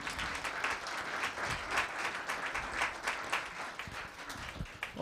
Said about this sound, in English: How about another round of applause for Sue and Bob Buxton?